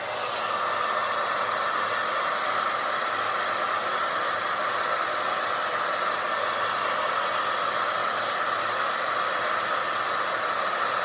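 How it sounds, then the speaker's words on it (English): A hair dryer blows steadily on a low setting to melt crayons, a continuous airy whoosh with a faint motor hum and no pauses. "Grab that hair dryer"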